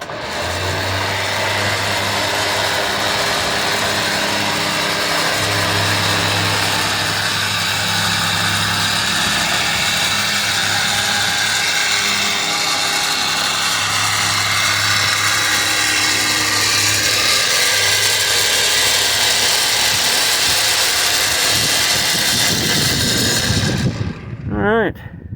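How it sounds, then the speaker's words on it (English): A Vevor 13,000-pound winch mounted on a trailer pulls under load, giving a steady mechanical drone and motor whine throughout, with voices faintly in the background and a brief clatter at the end. "Now we can winch ourselves in."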